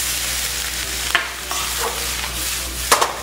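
Pork and egg fried rice stir-fried in a wok, with steady sizzling and frying punctuated by a few sharp scrapes and clanks of the spatula against the metal, loud and close with no speech.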